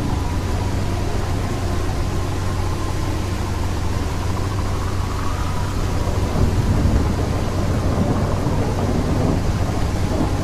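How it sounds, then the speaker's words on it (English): Rain pours in a video game thunderstorm, a loud constant wash of rainfall with low rumbling thunder rolling underneath, steady and close throughout. "Now it's raining, great."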